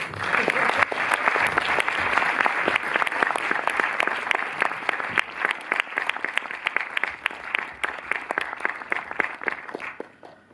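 A large audience applauds warmly, a broad wash of clapping that gradually thins into more distinct, scattered claps toward the end.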